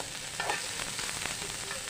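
Onion frying in oil for a fresh cashew curry, a soft continuous sizzle and crackle with faint stirring scrapes, quiet and close, with no voices.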